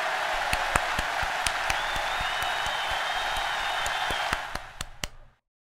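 Steady crowd applause in the video game Tales of Eternia, a faint whistle above it, sharp individual claps standing out, fading quickly to silence at the end.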